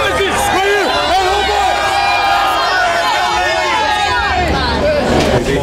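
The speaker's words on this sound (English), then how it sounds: "the Canadian fans in their Raptor jerseys cheering and supporting this team" Arena crowd of Canadian fans in Raptors jerseys cheering at a Toronto Raptors game, a loud continuous roar of whoops and yells filling the space, with a voice speaking over it.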